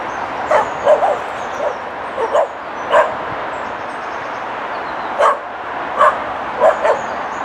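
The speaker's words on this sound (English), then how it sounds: "Oh, some dogs running around there." Several dogs bark and yip repeatedly in short bursts at a distance, over a steady background hiss of outdoor noise.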